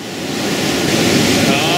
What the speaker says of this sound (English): This is Iron Ring Rapid, number 4 of the Big 5, 2-tier waterfall style drop.